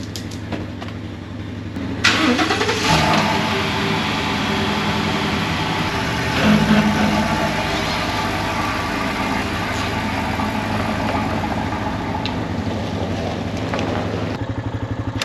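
A truck engine idles and then is moved, a steady mid-pitched rumble running throughout with a louder surge after a couple of seconds, close by and without speech.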